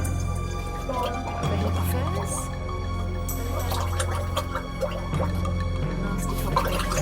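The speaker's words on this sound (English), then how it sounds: "now he needs to either drink or blow the liquid out of the tube" A contestant on the Fort Boyard game show works liquid out of a tube by drinking or blowing, giving wet gurgling and dripping sounds over a steady low hum, with faint voices in the background.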